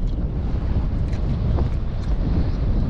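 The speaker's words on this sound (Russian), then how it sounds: "Вот сейчас вот такой ветер не нужен." Steady strong wind roars across the microphone during a late-September fishing trip, a dense low rumble with faint splashing water beneath it and no talking.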